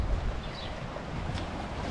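A strong, warm wind blows at a beach, a steady rushing roar of gusts buffeting close over the sound of surf, alone without voices.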